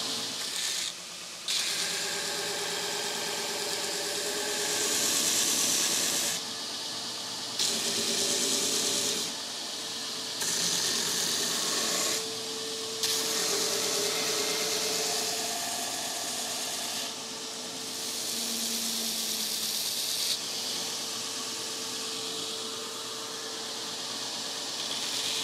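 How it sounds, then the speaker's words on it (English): Power grinder rounding and shaping the end of a wooden axe handle, a loud continuous abrasive whine and hiss in several long passes separated by brief pauses. "So I'm gonna go ahead and grind this off, kind of round it over and shape it,"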